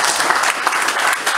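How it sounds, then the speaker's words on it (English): Dense, steady applause from an audience at an official ceremony declaring a Fijian town tobacco free, loud and close, with no voices over it. "Let's have a round of applause."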